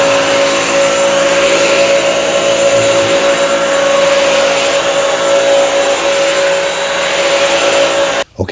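A Bissell CrossWave 1785A wet-dry vacuum runs steadily on a floor, a loud close motor whine with a constant tone and airflow rush that cuts off abruptly at the very end.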